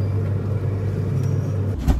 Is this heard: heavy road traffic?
yes